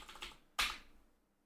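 Typing on a computer keyboard: a brief run of soft key clicks, then one louder, sharper keystroke or key bang, close and alone with no talk.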